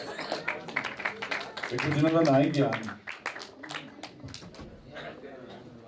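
An audience at a Punjabi poetry gathering at Punjab Bhawan, Lahore, claps to welcome a poet, sharp overlapping claps running under and around a voice as he speaks.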